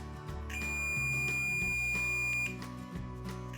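A multimeter in continuity mode, probing wires from a guitar button module, gives a single clear, steady high beep lasting about two seconds over a low background hum.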